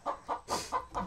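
A chicken clucking close by, five short rhythmic clucks in quick succession with a brief squawk in the middle.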